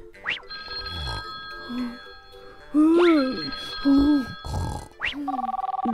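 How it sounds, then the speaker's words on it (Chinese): A cartoon telephone rings in a Plants vs Zombies animation, the ringing entering clearly near the end amid grunts, boings and other cartoon voice sounds. "霸道怎么不接电话呢？"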